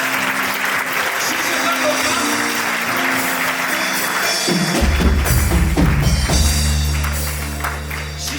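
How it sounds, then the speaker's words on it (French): Church worship audience applauding and cheering, sustained clapping from a large crowd across the whole stretch, with music swelling underneath partway through. "Est-ce qu'on peut acclamer notre Dieu?"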